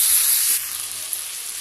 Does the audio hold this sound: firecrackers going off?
no